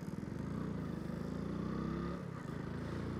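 A 30-year-old legendary motorcycle idles and putters steadily up close through a tight, small-radius U-turn, its low engine hum holding an even rhythm before easing slightly near the end.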